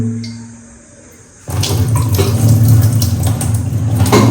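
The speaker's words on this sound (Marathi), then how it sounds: "आता आपण पाण्याने त्याला धुवून काढणार आहोत" Steady rushing of running water starts abruptly and continues loudly, like a tap pouring into a sink while tomatoes and potatoes are rinsed.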